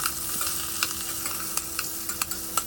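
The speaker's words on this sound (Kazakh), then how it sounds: "Қазанымызға майымызды құйып, етімізді салып, осылай пиязбен жақсылап қуырып аламыз." Meat and onions fry in oil in a pot, giving a steady close sizzle with scattered sharp crackles and pops, and no voices over it.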